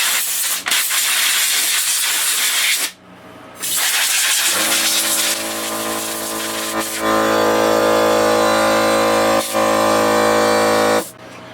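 Compressed air can blasting dust out of a PC vent: loud continuous hissing bursts, several seconds long, broken by short pauses between sprays.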